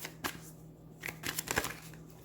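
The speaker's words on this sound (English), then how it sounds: "I promise I know how to shuffle, y'all." Tarot cards being shuffled by hand in a few quick riffling bursts, close and fairly quiet, with short pauses between them and no talking.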